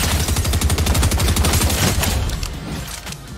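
Rapid automatic gunfire in the video game Fortnite, a loud dense burst of quick repeated shots that fades slightly toward the end, with no talking.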